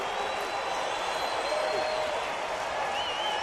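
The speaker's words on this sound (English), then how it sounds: "Good Saturday night crowd encouraging Bevan." Saturday night baseball crowd at a Rangers game cheering and clapping to urge on the pitcher, a steady, fairly faint wash of applause and crowd noise at a distance.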